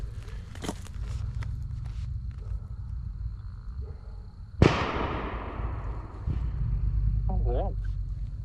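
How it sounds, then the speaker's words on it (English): A single sharp, loud gunshot at night near a fishing spot, cracking out suddenly and echoing away over a steady low rumble of outdoor background noise, with faint footsteps and movement around it. "What was that noise? I think a gunshot."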